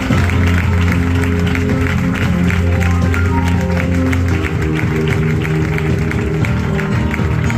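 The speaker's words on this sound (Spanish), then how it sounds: "Dale un fuerte aplauso a Dios." A church congregation applauds steadily and loudly throughout, a dense continuous wash of clapping with some voices mixed in.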